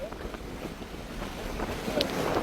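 Strong wind gusts roar across floodwater in a deadly flood, a steady, close buffeting rush with microphone wind noise throughout, no voices.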